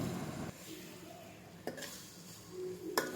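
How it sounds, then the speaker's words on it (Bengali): Eggs frying in a pan for noodles, a soft steady sizzle with a few sharp clinks of a utensil against the pan, close and quiet. "ভাজা হয়ে গেলে এবার এতে ডিমগুলো দিয়ে কিছুক্ষণ ভেজে নিব।"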